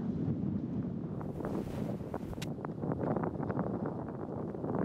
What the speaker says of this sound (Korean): 함정우 선수는 뒷바람이 불고 있고 좀 높게 칠 텐데요